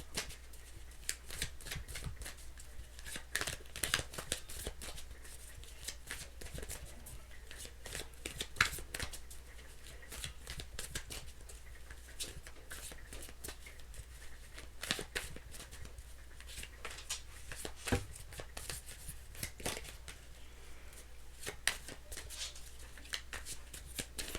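Playing cards are shuffled repeatedly at close range, a long run of quick riffling and snapping bursts with soft pauses between.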